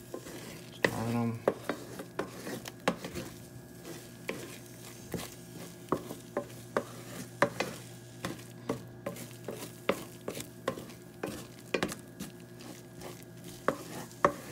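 Scrambled eggs being worked around a frying pan with a utensil for a keto dish: repeated scraping and stirring strokes in an irregular rhythm, close and moderately loud over a faint steady sizzle, with no talking.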